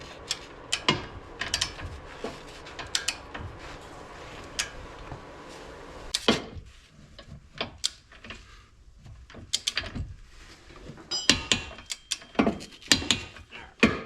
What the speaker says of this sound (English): now I just need to torque that one down